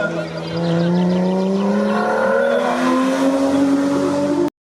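A race car at the Saint-Gouéno hill climb, its engine climbing steadily in pitch through the gears as it accelerates close by, loud and continuous, with an announcer talking over it.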